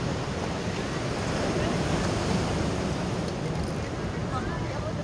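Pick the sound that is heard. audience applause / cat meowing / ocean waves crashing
ocean waves crashing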